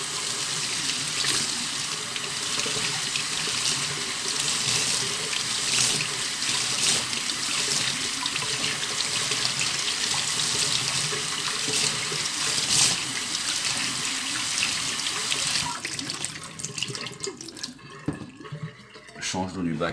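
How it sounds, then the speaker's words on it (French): A seed-sprouting tray for goldfinch and canary feed is rinsed under a running tap, with a steady gush of water splashing for most of the time before it eases and stops near the end, and faint talk underneath. "On rince son bac."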